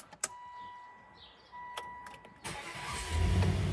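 A Volvo XC90 V8 with a freshly degreased engine bay cranks and catches, rising from starter clicks into a louder running rumble near the end, with no voices over it.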